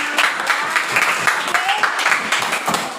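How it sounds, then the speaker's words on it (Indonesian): A school class applauding together, a steady run of rhythmic clapping that fills the clip, fairly loud and close with no talk over it. "kita berikan tepuk tangan dulu semuanya"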